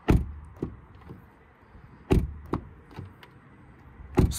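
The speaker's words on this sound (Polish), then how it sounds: "Posłuchajmy dźwięku zamykania drzwi." Car doors on a 2023 Kia ProCeed GT facelift with the 1.6 turbo 204 hp engine shut with solid, close-up thuds, several separate closings spaced a second or two apart, each followed by a short rattle in a quiet setting.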